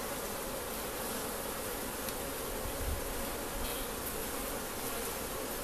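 Honey bees buzz at an open beehive, a dense, steady hum from many insects close by that carries on without a break, with no voices.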